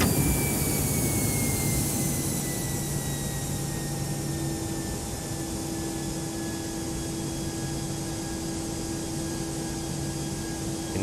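An Airbus A319 in the X-Plane 11 flight simulator roars on landing with jet engine reverse thrust, a loud, steady whine with whistling tones that keeps up for the whole stretch, with no voices.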